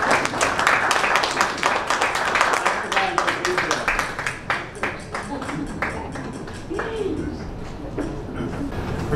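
An audience claps steadily throughout to welcome a guest at a Sherwood school alumni gathering, a dense run of many hands that tapers slightly near the end, with some background chatter mixed in.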